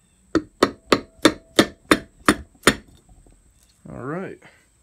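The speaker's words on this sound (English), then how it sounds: "Give it a little tap with the hammer here." Eight sharp metallic taps in a steady rhythm as a hammer strikes the cover of a QS 205 50H hub motor, followed by a brief voiced sound near the end.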